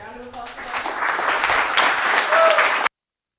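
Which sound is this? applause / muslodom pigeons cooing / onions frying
applause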